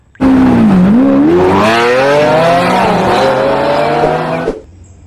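A toy race car's engine roar, loud and close, rising and falling in pitch like revving for about four seconds, then cutting off abruptly.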